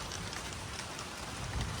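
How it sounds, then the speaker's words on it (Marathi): Sudden unseasonal rain falls in coastal Konkan, a steady close hiss of raindrops drumming on surfaces, dense and unbroken throughout. "पण अचानक पावसाला सुरुवात झाली आहे. सरप्राईजिंग अवकाळी पाऊस आहे"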